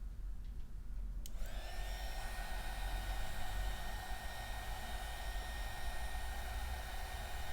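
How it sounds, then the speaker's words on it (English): A heat gun blows a steady, loud airy whoosh over resin in a mold, switching on with a click early and then holding a constant hum-and-hiss to the end. "Using the heat gun."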